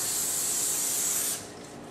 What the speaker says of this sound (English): And then I'm going to take some pan spray